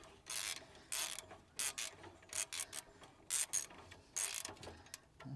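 A ratchet wrench tightens a fitting in quick bursts of dry, rapid clicking, each run of pawl clicks separated by brief pauses, close up and fairly quiet, with no talking.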